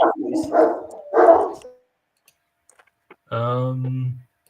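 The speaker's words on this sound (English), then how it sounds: "It's Cohen's dogs." Dogs bark in the background of a live stream, a few sharp barks close together at the start, then a longer whining yelp after a pause, with someone talking over parts of it.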